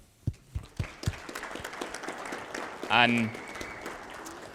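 A conference audience at a soil chemistry session gives a few brief claps of applause for a speaker. The clapping fades quickly under a voice, which carries on talking.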